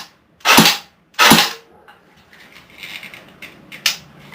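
A battery-powered airsoft-style gun on a 9.6-volt pack fires semi-auto, two loud sharp close shots about a second apart, followed by quieter clicks and rattles.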